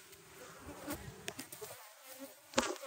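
Italian honey bees buzz agitatedly around their hive in a close, wavering drone, with individual insects whizzing past near the microphone and one sharp loud burst near the end.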